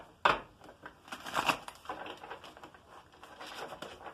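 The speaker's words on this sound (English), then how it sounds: "3 shuffles. And a cut." Tarot cards are shuffled and cut by hand, giving close, dry papery riffles and slaps in irregular bursts, with a sharp first snap and softer patter after it.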